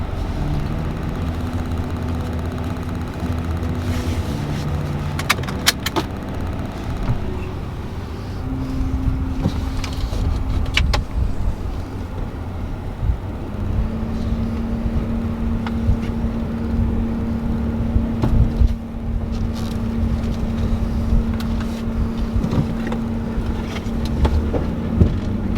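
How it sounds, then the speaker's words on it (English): A lowered 2014 Ford Tremor pickup drives on a test run, its engine giving a steady, fairly loud drone with a sustained low hum and occasional thumps and rattles, and no talk. "let's go for a test drive."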